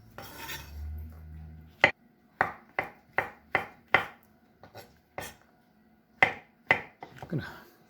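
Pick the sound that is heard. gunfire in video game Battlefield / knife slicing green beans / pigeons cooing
knife slicing green beans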